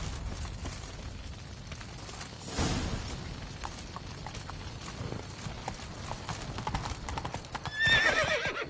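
Horse hoofbeats in the video game The Witcher 3, a steady clip-clop of galloping with a whinny near the end, heard up close over a continuous game soundscape.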